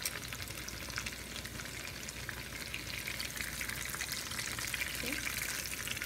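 Potato tacos made from leftover mashed potatoes fry in hot oil in a pan, giving a steady, loud, close sizzle with crackling hiss that runs unbroken throughout, with no talk over it.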